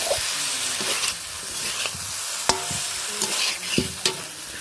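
Okra being stir-fried in a pan, with a loud, continuous close sizzle and occasional sharp spatula scrapes and taps.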